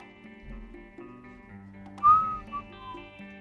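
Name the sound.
person whistling into microphone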